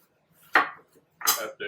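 A knife slicing through eggplant on a cutting board in a home kitchen, with two or three sharp close cuts separated by short pauses.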